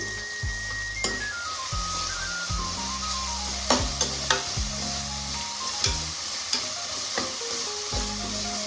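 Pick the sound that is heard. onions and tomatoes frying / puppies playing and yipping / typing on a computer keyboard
onions and tomatoes frying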